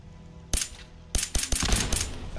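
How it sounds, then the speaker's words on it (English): Close gunfire in a video game: one loud shot, a pause, then a rapid uneven burst of several more shots, with no talk. "I didn't realize I could shoot it."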